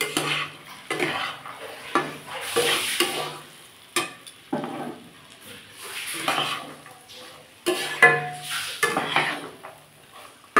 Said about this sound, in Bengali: কড়াইশুঁটিটা দিয়েও ভালো করে একটু কষিয়ে নেবো।